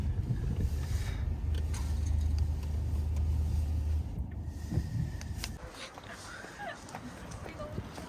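A car pulling into a car park at Zaanse Schans, its low engine rumble steady for a few seconds before cutting out, leaving faint ambient noise and a distant voice.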